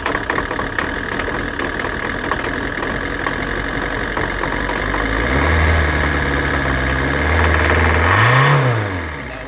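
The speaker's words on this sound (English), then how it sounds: "you can see kind of the engine rattling" An old car's engine idles roughly, knocking and rattling at a steady loud level, then revs briefly and drops back, with no voices.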